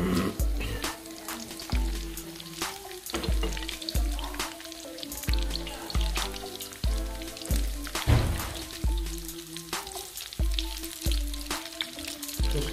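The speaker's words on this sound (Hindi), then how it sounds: "बहरहाल गरम है तो हम इसको फ्राई कर रहे हैं" Fish fillet frying in hot oil, a steady loud sizzle and crackle with repeated clanks and scrapes of utensils against the pan throughout.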